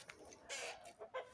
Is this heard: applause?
no